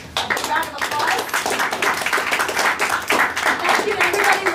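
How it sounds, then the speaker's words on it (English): Clapping for panelists at the close of an expert panel on youth privacy, a modest group applauding in an uneven, moderately loud patter, with voices talking over and around the claps throughout. "Thank you to our panelists. A round of applause."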